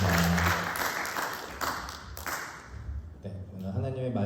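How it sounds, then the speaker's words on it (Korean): A church congregation at a Sunday worship service claps for the choir, a moderate spread of applause with sustained musical tones beneath it and a voice speaking over parts of it. "다시 한번 힘찬 박수로 우리 수고하신 성가대와 하나님께 모든 영광 드리도록 하겠습니다."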